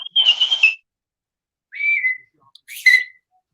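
A person whistles three short bright notes, each a brief rising-and-falling phrase separated by silence, close and clear in a quiet room.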